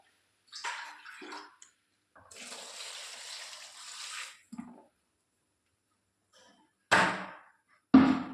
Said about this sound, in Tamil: மோர் ஊற்றிக்கலாங்க